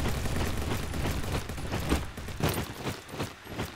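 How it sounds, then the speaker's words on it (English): Rapid MK14 rifle fire in the Roblox shooter Bad Business, a dense run of loud sharp reports layered with game noise and a few heavier distinct shots toward the end. "MK14. Okay, strong gun."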